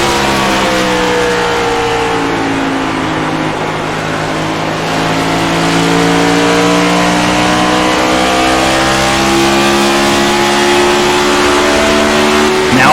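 A pack of race cars on the lead lap at a TikTok Thursday Night Thunder event roars continuously, many engines droning and shifting pitch together in a loud, dense wall of sound with no speech.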